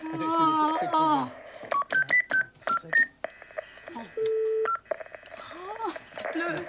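A telephone keypad sends a quick run of dialing tones, short separate beeps followed by one longer held tone, with French voices speaking before and after.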